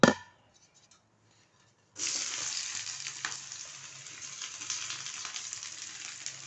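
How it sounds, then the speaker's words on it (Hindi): Chopped onion drops into hot oil in a pan for a fried fresh-coriander chutney, a steady loud sizzle bursting in after a near-silent pause and crackling on without letup. "तेल गरम हो जाए तो आंच हल्की करके और प्याज डालनी है।"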